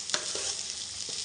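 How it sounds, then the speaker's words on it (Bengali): Veg chowmein is tossed in a hot pan, giving a brief steady hiss with a few soft scraping strokes, fairly faint. "ভালো করে নেড়ে চেড়ে দিচ্ছি"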